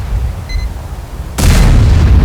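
An AMX 50B tank gun fires in World of Tanks: a sudden loud blast cuts in after a quiet rumble and a couple of faint beeps, then a heavy sustained roar.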